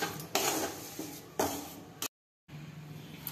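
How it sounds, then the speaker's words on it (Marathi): Roasted gram flour for besan ladoo is scraped from a pan into a wide plate, giving a few loud metallic scraping clatters with a brief silent gap, close by and with no talking. "चला आता मी हे परातीमध्ये काढून घेतले।"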